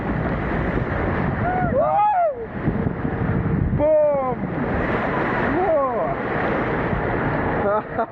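Man-made surf beach at Sunway Lagoon theme park, with loud, steady wave roar and wind buffeting the microphone, while people shout and whoop over the surf.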